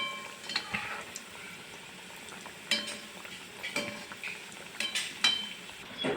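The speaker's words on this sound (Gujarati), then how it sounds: "મીડિયમ ગેસે એને હું તળી લઈશ સમોસાને." Samosas deep-frying in oil over a medium gas flame give a soft, continuous sizzle, broken by a few sharp clinks of a metal utensil against the pan.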